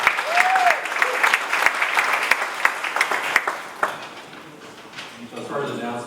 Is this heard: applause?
yes